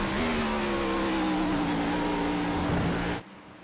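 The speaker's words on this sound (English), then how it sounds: "You can hear the blip on the downshift there" A race car in the iRacing sim at Watkins Glen holds a loud engine drone, then a quick throttle blip on the downshift as revs rise and fall before the sound drops away abruptly.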